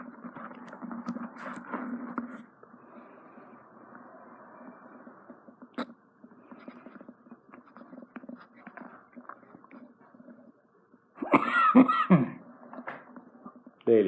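During earwax removal with a Jobson Horne instrument, a few short coughs and throat sounds come in bursts between quiet stretches, with a louder cluster of coughing near the end.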